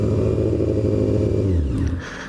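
A Honda F4i motorcycle with a baffled straight-pipe exhaust revs loudly close by, its engine note sweeping down as the revs fall before a brief mechanical clatter at the end.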